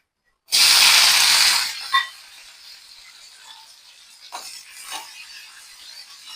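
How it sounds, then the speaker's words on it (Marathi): Cumin and mustard seeds dropped into hot oil for a tempering erupt in a loud, sharp sizzling hiss that lasts about a second, then fade to a quieter crackle with a few soft pops. "तेल आता चांगलं तापलं की जिरे मोहरीची आता फोडणी देते आता."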